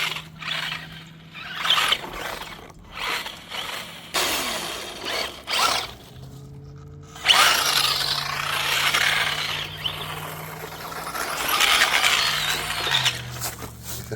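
A Bandit Trans Am RC car's drivetrain grinding roughly, with ratcheting, clicking gear noise and whirring motor bursts that come and go, fairly close, with no talking.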